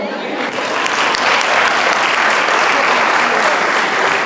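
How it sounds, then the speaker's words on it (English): An audience at a school grade night applauds a group of sixth graders, a loud, sustained burst of many hands clapping that swells slightly and holds steady to the end. "Big round of applause for these great sixth graders."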